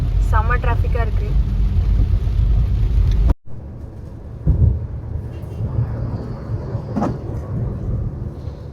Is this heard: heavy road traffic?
yes